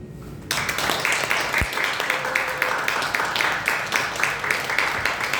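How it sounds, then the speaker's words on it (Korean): A church congregation breaks into sustained applause after a brief quiet start, many hands clapping together in a steady, full wash with a faint tone briefly audible underneath. "여러분들이 큰 박수로 화답을 하시기를 바랍니다."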